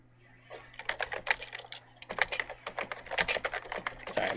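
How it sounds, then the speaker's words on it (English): Quick bursts of typing on a computer keyboard, close and crisp, with rapid clustered key clicks separated by short pauses and no talking. "Sorry, I'm typing something really quick."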